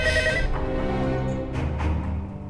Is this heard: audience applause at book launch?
no